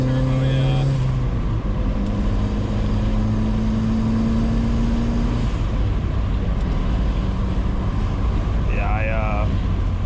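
A turbocharged 1997 Mazda Miata M Edition under way, its engine droning steadily from the cabin with rising and falling pitch as it pulls, with occasional voices in the car over the road noise.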